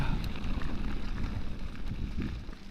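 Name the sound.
wind blowing on a breezy day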